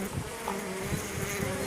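A honeybee buzz runner pushes through a swarm, giving a dense and steady buzz of many wings with a slight pulsing drone, heard close up.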